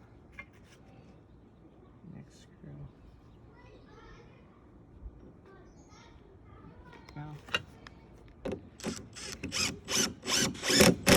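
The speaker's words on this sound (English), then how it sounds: "Put my first screw in." Power drill driving a screw through a bracket into a tile roof during a tile hook install, faint quiet handling at first, then a run of loud, repeated bursts of drilling growing stronger toward the end.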